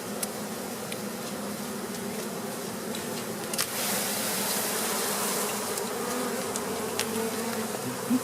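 Honey bees from a healthy Flow Frame hive, opened during an October harvest, hum in a steady, dense buzz up close, swelling slightly halfway through, with a few individual bees flitting past and no voices.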